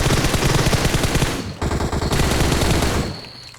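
Rapid automatic gunfire in the mobile battle-royale game PUBG Mobile, two loud sustained bursts of machine gun fire separated by a short pause, close and dominant, trailing off at the end.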